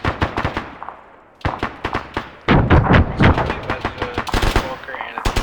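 Arma III battlefield gunfire: rapid machine-gun bursts and single shots crack close and loud in quick succession, with heavier thumping volleys in the second half.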